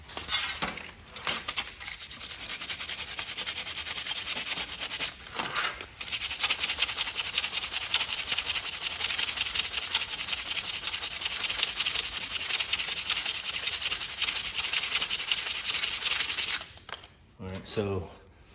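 Sandpaper rubbed by hand over an epoxy primer coat on a car body panel, a steady close abrasive hiss running almost nonstop for most of the stretch with a few brief pauses.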